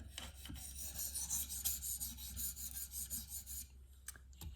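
A KME sharpening stone drawn lightly across the edge of a Spyderco PM2 knife in S35VN steel to reduce the burr, quiet repeated raspy strokes in a steady rhythm, close up and alone.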